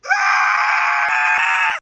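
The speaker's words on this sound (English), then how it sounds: "we heard the most terrifying, deathly scream" A terrifying, deathly scream rings out loud and sustained for almost two seconds, high and strained, with a few faint sharp knocks behind it; no talking.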